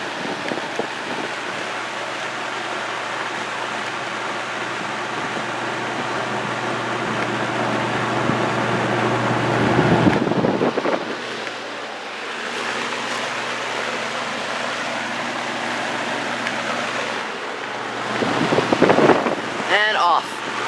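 A Toastmaster box fan running on high speed produces a loud, steady whooshing rush of air close by, with a brief dip and a slight shift in the middle and a short burst of handling noise near the end.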